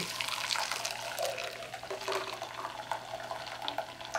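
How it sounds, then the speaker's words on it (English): Homemade hemp almond milk is poured through a strainer, splashing and trickling steadily, a continuous pouring with small bubbling surges, close by and fairly quiet. "we're just going to pour it through a little bit at a time"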